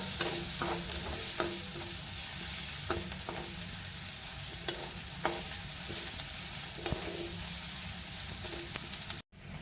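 Onions, chillies and carrots for pasta being sautéed in a pan, sizzling steadily while a spoon scrapes and knocks against the pan every second or so, close and continuous, with no talking.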